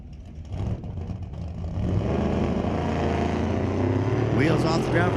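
A hot-rodded 1949 pickup at a street-legal drag race at Mission Raceway Park, its engine a loud, sustained rumble that swells and holds, while an announcer talks over it.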